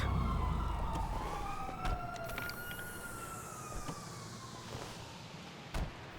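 Police sirens in the video game GTA 5, wailing and sweeping in pitch at moderate distance, fading over a low background hum with occasional soft clicks.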